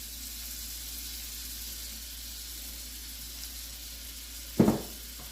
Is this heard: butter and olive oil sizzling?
yes